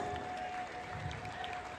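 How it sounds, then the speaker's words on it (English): An audience at an Amway celebration event in Visakhapatnam applauds for the students, a steady, dense wash of clapping heard from a distance at low level, with no speech over it. "Great round of applause to all the students."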